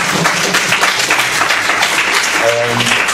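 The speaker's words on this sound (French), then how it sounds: "On peut applaudir." Sustained audience applause at a live drawing demonstration, steady dense clapping from a crowd throughout, with a voice briefly audible near the end.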